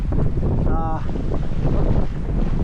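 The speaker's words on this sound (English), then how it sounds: "So there's a bit of wind here. It's good 15 knots of wind ripping up from down there." Strong wind of about 15 knots blowing over a trailer sailer stranded on a sandbar at Wathumba Creek, loud steady roaring buffeting of the microphone with a brief voice underneath.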